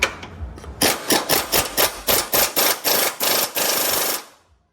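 A 3/8 inch impact gun hammers against a 19mm bolt during a coilover install, firing in about a dozen loud, rapid bursts with brief pauses between them, ending in one longer sustained rattle.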